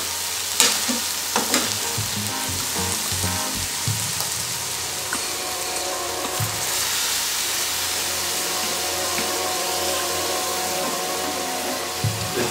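Salmon juice sizzles in a frying pan for a salmon curry, a loud, continuous hiss with a few clatters of the pan early on.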